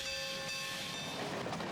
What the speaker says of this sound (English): A favorite way to reach the canyon is on the Grand Canyon Railway.